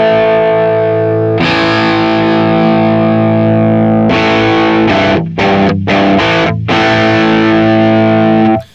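An electric guitar runs through Guitar Rig software with a simulated speaker mic, giving a loud distorted chord that rings out, then a series of choppy, stopped strums before the final chord is cut off.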